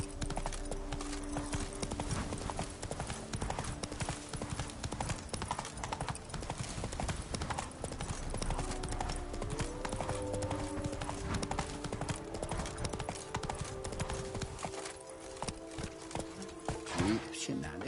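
Roach the horse gallops in The Witcher 3, a steady rhythmic clip-clop of hooves running throughout under game music and a talking voice, with a brief whinny.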